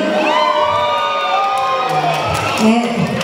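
A crowd shouts and cheers for Mayor Tenha at a political gathering, with loud, dense whoops and voices overlapping continuously, rising near the end.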